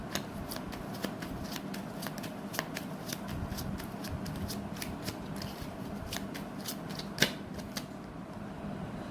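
Tarot cards shuffled during a reading, a steady run of crisp riffling flicks and snaps, close and continuous, with faint room hiss beneath.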